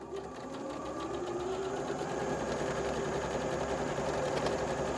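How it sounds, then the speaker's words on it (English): A sewing machine stitches quilt squares together with a quarter-inch presser foot, running steadily and close by with an even mechanical whir and chatter, alone with no talk. "I'm sewing a quarter inch off of this line using my quarter inch foot"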